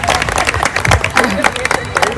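Group applause at a Women's Day event, a room full of clapping mixed with crowd noise and cheering. It runs steadily for about two seconds, with voices audible alongside the clapping.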